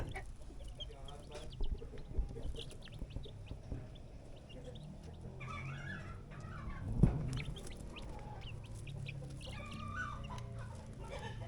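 Rhode Island Red and Buff Orpington hens clucking in a farmyard, a steady run of soft, overlapping clucks and chatter continuing throughout, with one brief louder knock midway and no talk.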